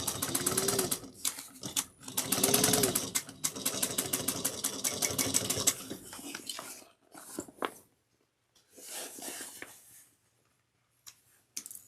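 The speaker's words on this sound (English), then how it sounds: "Back stitch well at the beginning and the end." Sewing machine back stitching a tote bag, running close and steady for about six seconds in quick rhythmic stitching bursts, then a few short faint runs and handling noises.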